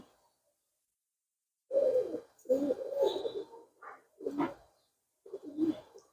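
A held pigeon coos in several soft, close, throaty phrases separated by brief pauses, with silence before the first call.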